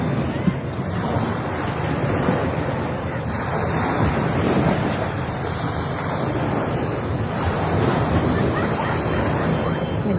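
Sea waves wash continuously onto a beach while strong wind buffets the microphone, a steady loud roar with no pauses.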